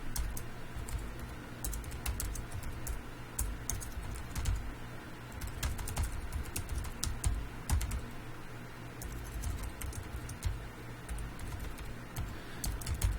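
Typing on a MacBook keyboard while editing code: quick, light key clicks in an uneven steady stream, close and fairly quiet, with no talking.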